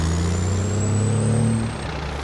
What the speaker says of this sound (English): Oh man, this truck sounds good